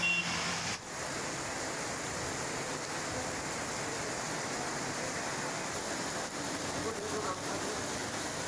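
Heavy monsoon rain falls over farm fields in a dense, steady roar that stays loud and unbroken.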